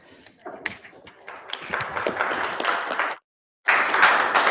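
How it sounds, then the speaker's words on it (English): A room claps for a presentation at a Covid case studies session: dense applause builds and holds, breaks off for a moment, then surges back strongly. "So a round of applause for the presentation"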